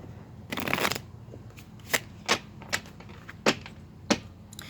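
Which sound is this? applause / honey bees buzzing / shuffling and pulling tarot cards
shuffling and pulling tarot cards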